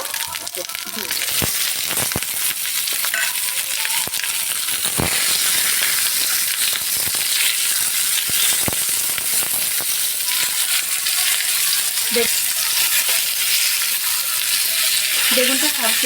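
Vegetables for shukto hit hot oil spiced with panch phoron, bay leaf, black cumin, cumin and turmeric, producing a loud, steady sizzle with occasional scraping and clinks from stirring throughout.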